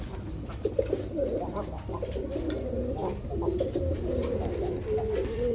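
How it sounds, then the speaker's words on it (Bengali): Several Giribaz pigeons coo softly and repeatedly nearby, their low rolling calls overlapping, with a faint high chirping in the background. "এটা আপনার এই গিরিবাস কবুতরি"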